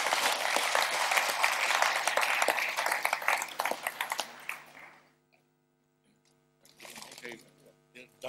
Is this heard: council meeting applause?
yes